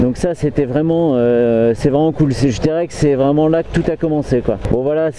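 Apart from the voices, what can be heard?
None of the usual background noises is heard.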